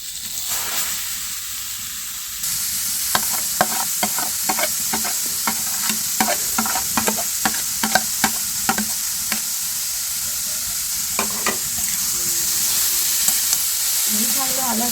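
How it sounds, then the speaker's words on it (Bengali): Carrots frying in hot white oil in a pan, a constant hiss of sizzling with a long run of quick spatula scrapes and taps, close and steady, nobody speaking. "এবার আমি গাজরটা একটু ভেজে নেবো লালচে লালচে করে।"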